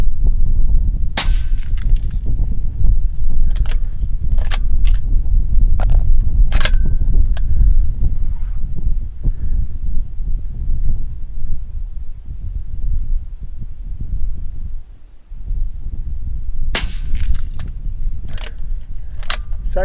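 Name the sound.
22-250 rifle gunshots shooting prairie pests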